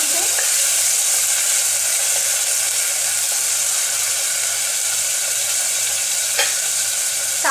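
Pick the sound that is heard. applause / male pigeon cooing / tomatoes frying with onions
tomatoes frying with onions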